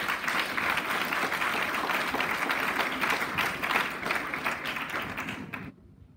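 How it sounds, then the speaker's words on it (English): Audience applause at a Grade 7 school prize-giving ceremony, a steady wash of many hands clapping at even loudness for about five seconds before cutting off abruptly. "please give them a lovely round of applause"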